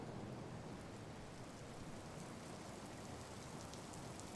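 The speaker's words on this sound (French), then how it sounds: "Les premières gouttes de pluie mouillent votre visage." Steady rain falls at the start of a gathering storm, a dense, even hiss of drops that continues without a break.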